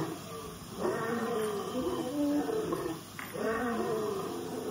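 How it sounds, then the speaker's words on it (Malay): A deep, rumbling lion roar rises and swells twice, loud and close, with no voices. "Siapa yang mengaum? Betul, ini singa."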